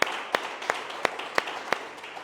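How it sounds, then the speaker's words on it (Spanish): A church congregation claps together in a steady rhythm, with sharp, evenly spaced claps about three per second, moderately distant and fairly soft, and no talking over them. "Démosle un aplauso que es para Él"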